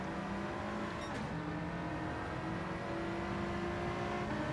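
A Mercedes-AMG GT Black Series race car in Gran Turismo 7 with its engine droning and shifting pitch, the exhaust crackling and popping on corner entry, loud and close throughout.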